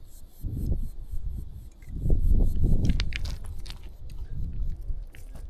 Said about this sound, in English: Munching on my breakfast here.